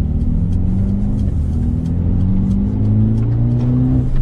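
Mercedes-AMG A35 in sport mode driving around a curve, a loud, steady engine drone with rising, shifting pitch as it pulls through the bend, heard from inside the car, no talk.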